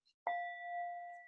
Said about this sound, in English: I'll use the invite bell, the little short, non-sustaining bell